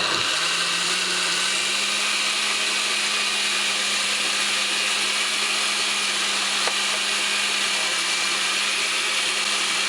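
A blender motor spins up and then runs at a steady, loud, whirring roar for the whole stretch, blending a cup of water for a stinking toe (jatoba/locust fruit) drink, with no voices over it.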